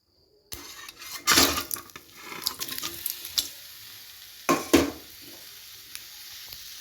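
Olives in a pan being stirred for olive jelly, a wet scraping and sizzling churn with two louder stirring bursts and quieter scraping between them, no voices.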